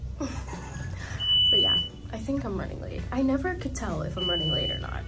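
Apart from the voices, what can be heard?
elevator sound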